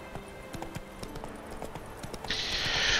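Roach, Geralt's horse in The Witcher 3, trots with a regular clip-clop of hooves at moderate volume, joined near the end by a bright hissing rush of ambient noise.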